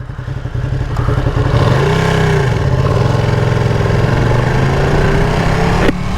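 A Ducati Panigale V2 motorcycle cruising through town, its engine a loud, close, continuous drone that rises and falls gently with throttle changes, with wind noise and no speech.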